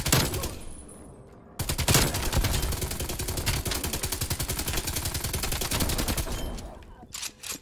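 RPD light machine gun fire in Call of Duty: Cold War: long, dense bursts of rapid automatic shots, loud and close, after a short quieter lead-in, with brief pauses near the end.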